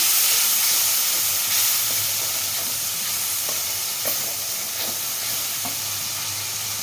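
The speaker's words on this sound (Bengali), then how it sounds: "এরপর দিচ্ছি লঙ্কার গুঁড়ো তারপর দিচ্ছি জিরা গুঁড়ো মশলাগুলো একসঙ্গে কষে নেব" Chili powder and cumin powder stir-fried in a pan for a prawn, potato and pumpkin curry, giving a steady broad sizzle and hiss with a few soft scraping stirs, close and alone.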